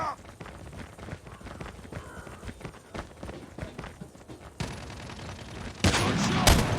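Gunfire in Call of Duty Mobile Gun Game Moshpit mode, rapid scattered shots and bursts with footsteps in a busy match, growing louder toward the end, with brief voice callouts underneath.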